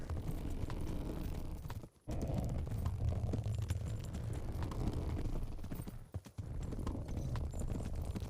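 Horse hooves clip-clop steadily through most of the stretch in Kingdom Come: Deliverance, loud and close, with two brief dropouts where the sound cuts nearly silent before resuming.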